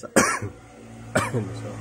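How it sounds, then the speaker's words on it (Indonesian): Two separate coughs about a second apart, close and fairly loud, each a sharp burst with a short rough tail. "sorry maaf ya agak batuk"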